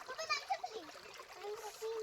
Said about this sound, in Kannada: ನೀರು ಚೆನ್ನಾಗಿ ಹೋಗ್ತಾ ಇದೆ